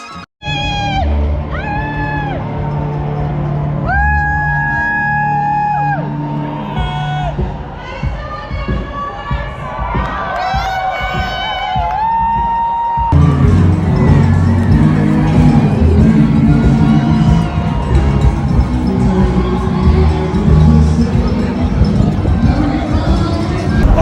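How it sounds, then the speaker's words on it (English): A crowd along the course of the New York City Half Marathon cheers and shouts for passing runners, a dense mix of voices and whoops, loud and close, growing fuller partway through. "we went to go cheer on the runners of the New York City Half Marathon"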